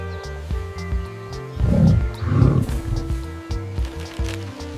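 A gorilla gives low, rough grunting and growling vocalizations, swelling twice in the middle and otherwise rumbling moderately loud and near.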